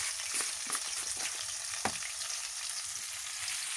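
Onion frying in hot oil gives a steady crackling sizzle at close range, with a few sharper pops and stirring clatters and no talking.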